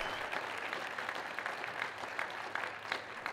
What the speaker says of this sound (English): So some rounds of applause for the last five founders.